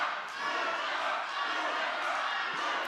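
Excited crowd at a fencing match, a dense continuous roar of cheering and chatter held at a steady loud level throughout.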